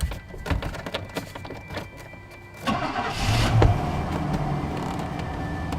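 A van engine starting: clicks and rattles, then the engine cranks and catches into a loud, close idle that settles and keeps running.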